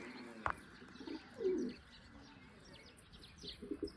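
Pigeons on a farm in a Gujarati village, heard faintly at a distance: a few soft coos and short chirps come scattered over quiet background noise, with a brief knock near the start.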